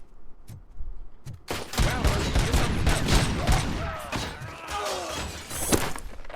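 Sustained gunfire from enemies in the RoboCop Rogue City video game, a dense, loud barrage of rapid shots and impacts that keeps going after a brief quiet start, with a few sharp isolated bangs at the beginning.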